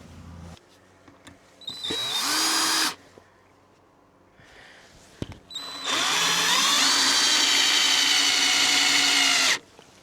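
Cordless power drill driving screws to fix rod holders in place, two bursts of high whining spin, a short one then a longer run, with quiet handling between.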